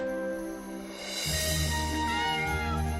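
A cat meows in the Deadly Sin II video game with a long, clear, drawn-out call set against a steady game soundscape.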